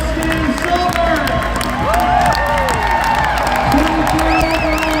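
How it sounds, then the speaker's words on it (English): Anaheim Ducks fans at a summer hockey fan party keep up continuous cheering and applause, with shouts and whoops rising over the crowd and an amplified voice carrying above it. "Keep your applause going"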